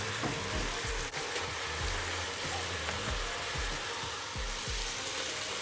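Boiled macaroni with soy sauce and chili sauce fries in a pan, giving a steady, moderately loud sizzle with occasional low thumps and scraping stirs.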